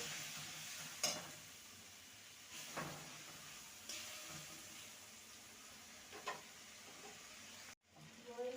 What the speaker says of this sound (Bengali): ধনে গুঁড়ো আর সামান্য একটুখানি ঝাল লঙ্কার গুঁড়ো ভালো করে কষিয়ে নেব